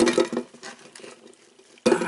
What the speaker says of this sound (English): I've got 2 medium-sized onions that I'm putting in here